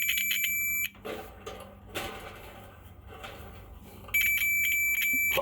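A multimeter set to diode mode checks continuity on a part from a Samsung electric dryer that won't heat, giving a steady high-pitched beep, then a gap of quiet handling noise, then the beep again.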